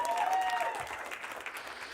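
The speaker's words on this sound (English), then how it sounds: "Round of applause for Brian Bowden" Applause from a comedy club audience at a casino venue, a short burst of clapping with some tonal ringing at first, fading slightly over two seconds.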